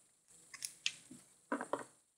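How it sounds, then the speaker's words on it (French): Scissors snip a circle out of a sheet of white paper, giving a few short, close crisp cuts in two quick clusters against a quiet background. "On va prendre des ciseaux et on va découper le rond."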